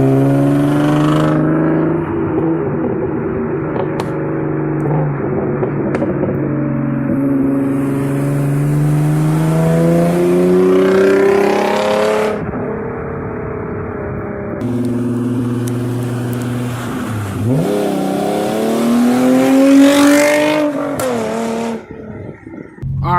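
A Genesis Coupe revs repeatedly, first through a straight-piped exhaust and then through the stock exhaust, with loud rising and falling engine pitch sweeps, close and with no talk.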